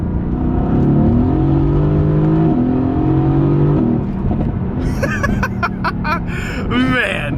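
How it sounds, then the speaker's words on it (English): Single-turbo 2JZ Lexus IS300 accelerating hard, its engine tone climbing steadily through the gears with transmission whine, then easing off; someone talks over the later part. "Man, listen to this transmission, guys."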